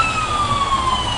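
An ambulance siren wails steadily in Jerusalem traffic, a continuous tone over the low rumble of idling and passing vehicles, heard alone without talk.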